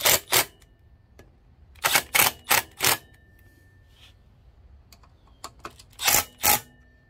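Sharp ratcheting clicks in short bursts as a wrench tightens bolts on a Kawasaki KE125 motorcycle, close and intermittent with pauses between groups.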